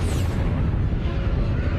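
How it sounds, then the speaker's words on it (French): A rumbling, sustained explosion effect for a supernova, loud and dense with heavy low-end roar throughout and a faint higher hiss fading early, continuous with no distinct separate blasts. "Une explosion de supernova est extrêmement puissante."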